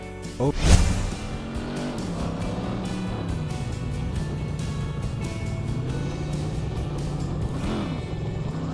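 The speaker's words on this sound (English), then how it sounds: "Driving Zone Offroad is a simple but fun off-road driving game where you carry passengers through bumpy terrain to earn money." Off-road car in the mobile driving game Driving Zone Offroad, carrying passengers over bumpy terrain: a steady engine drone with shifting revs and a brief loud burst near the start, no talk.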